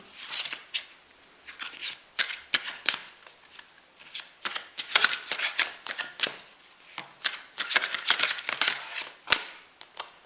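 Oracle cards are shuffled by hand in a run of quick, crisp riffling bursts and slaps, close up and irregular in rhythm, with short pauses between flurries and no speech.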